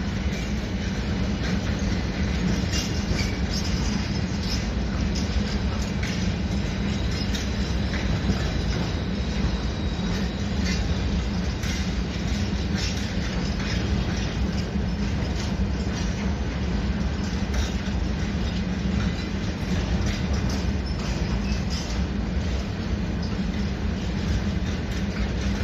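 A train pulls in at a platform at Verona Porta Nuova station with a steady, loud rumble of wheels and rail noise that holds throughout, without any voice over it.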